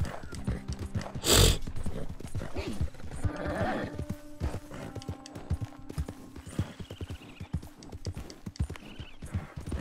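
Horse hooves clop in an uneven, rhythmic gait while riding cross-country over rough ground in Red Dead Redemption 2, loud and close, with a sharp whinny early and tack jingling, under someone talking.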